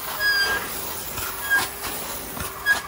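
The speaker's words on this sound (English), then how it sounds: "I would use steam only. So now we're getting it super hot coming out." A US Steam Blue Evolution S+ commercial steam vacuum blasts hot steam in a steady, close hiss, with a few brief surges and faint clicks along the way.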